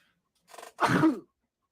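A single sneeze, a short intake followed by a sharp burst, close and fairly loud, with silence around it.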